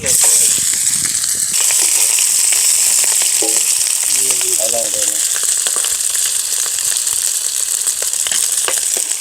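Meat frying in ghee in a pot for beef mandhi at an outdoor garden feast, a loud steady sizzle throughout with brief stirring clatter and voices talking over it.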